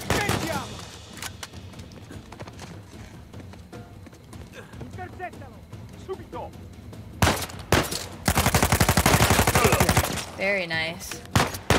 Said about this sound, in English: The guns sound good.